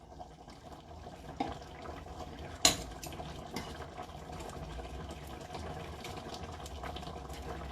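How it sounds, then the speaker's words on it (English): Pasta stirred in a pot, light metallic clinks and one sharp knock of utensil against the pot over a soft running-water wash. "Give your pasta a stir."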